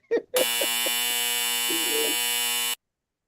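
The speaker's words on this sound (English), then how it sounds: "had to give you the long buzzer for that one" A long, loud electronic buzzer drones steadily for more than two seconds after a brief voice, with a voice talking faintly underneath, as used on an NFL free agency talk show.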